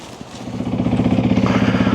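A 2022 Honda CRF300L supermoto motorcycle idles close by with a rapid, even thumping pulse that steadies and grows slightly louder after a soft start, with no voices.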